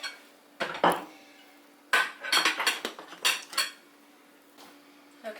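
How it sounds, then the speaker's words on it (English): Bowls are taken out and handled in a kitchen, giving clattering ceramic clinks and knocks in short bursts with pauses between, close and fairly loud. "so I get a bowl."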